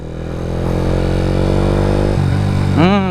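A motorcycle fitted with a new SSS 14-43 428 chain and sprocket set accelerates hard on a rough road, the engine note droning steadily up close and then climbing sharply as it revs through a gear change.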